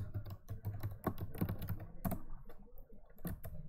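Rapid, uneven keystrokes on a computer keyboard as a password is typed, close and clear, with short pauses between bursts and no talking.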